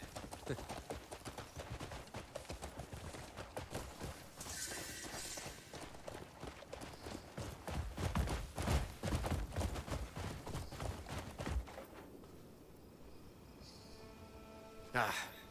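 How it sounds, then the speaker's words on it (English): Horse hooves clip-clop in a steady rhythm inside a fantasy video game, moderately loud over a busy game soundscape, with voices talking at times. "That horse seems fond of you, Greymane."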